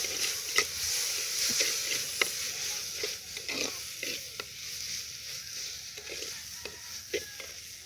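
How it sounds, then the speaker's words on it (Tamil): Pirandai (adamant creeper) sautéing in hot oil for a soup, a steady close sizzle and crackle with scattered sharp pops and stirring clatter, no voices. "இப்போ பிரண்டையை போட்டு நல்லா வணக்கிக்கலாம்."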